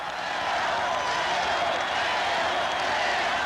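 A ballpark crowd of Kansas City Royals fans at a 1980 World Series game against the Phillies, a steady dense roar of cheering that holds at an even level throughout.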